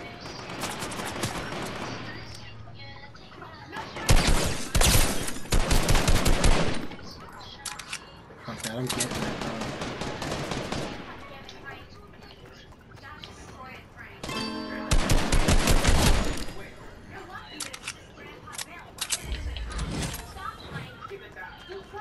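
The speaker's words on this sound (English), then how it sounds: "someone just shot at me." Video game gunfire crackles in bursts of shots, loud and close, recurring several times between stretches of quieter game sound while a player talks over it.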